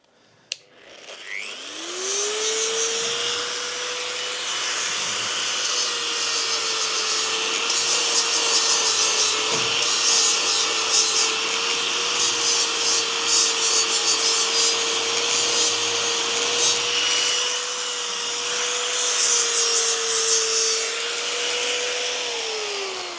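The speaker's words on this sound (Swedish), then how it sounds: "Men jag ska bara slipa lite grann här uppe." An electric sander works over wood on a horse trailer under renovation, its motor spinning up and then holding a loud, steady whine with rough scraping grit close by, alone and continuous for about twenty seconds.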